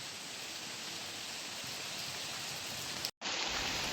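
Heavy monsoon rain pours down in a dense, steady hiss across the whole clip, broken by one brief dropout near the end, with no voices.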